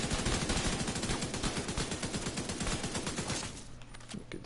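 Rapid assault rifle fire in a video game rattles out in a loud, continuous burst of tightly spaced shots, then stops, leaving a short quieter tail.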